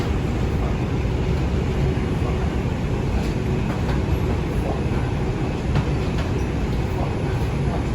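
A Manhattan-bound 2 subway train at an elevated station rumbles loudly and continuously, with a dense low roar and faint rattling clicks from the wheels and cars.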